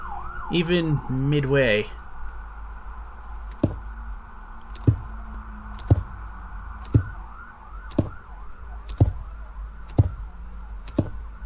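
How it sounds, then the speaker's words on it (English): Ambulance siren passing by outdoors, a faint wavering wail sweeping up and down in the background, behind a short spoken word and a steady series of sharp clicks. "when that ambulance went by"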